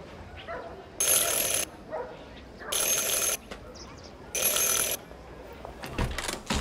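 Bell rung three times in a video game to attract attention, each ring a bright sustained chime lasting about half a second, loud and close, with quiet background and brief speech near the end.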